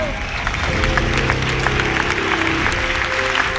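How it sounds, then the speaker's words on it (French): An audience applauds steadily and fairly loudly at a talk, a dense continuous wash of claps with a faint crowd murmur underneath. "Un applaudissement."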